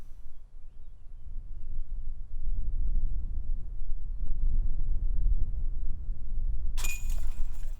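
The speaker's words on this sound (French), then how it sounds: "Mais là on voit bien que ça souffle très fort" Low, rumbling gusts of strong wind buffet the microphone on a disc golf course during a tournament in Dieulefit, France, building and staying strong, followed by a sudden bright crash near the end.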